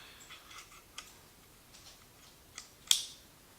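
A few small clicks and scrapes as a replacement blade is slotted into a Gerber Vital folding knife handle, ending in one sharper snap as it locks in place. The sounds are faint and close.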